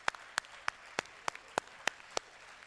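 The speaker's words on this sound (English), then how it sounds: "we all will give a big round of applause to those people who have been working backstage, front stage and everywhere" Audience claps at a Yuvotsav 2023 event, heard as eight sharp, evenly spaced claps in a slow steady rhythm, each distinct against a quiet background, as if led by a single clapper near the microphone.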